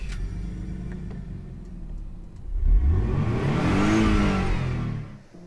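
A 550 hp Nissan 300ZX drift build in GT Sport cranks over and fires up, then revs hard in a rising, roaring sweep before cutting off, loud and close.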